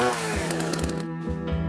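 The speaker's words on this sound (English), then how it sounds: "With a chainsaw." A chainsaw sound effect in a snoring ad, running loud and continuous with a steady engine drone and rough pulsing revs, briefly dropping off near the end before roaring back.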